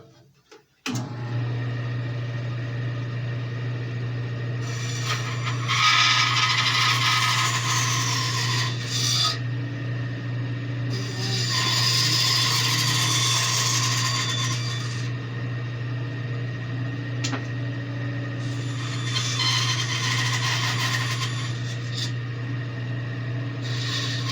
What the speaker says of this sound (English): I kind of trimmed that off a little bit with the knife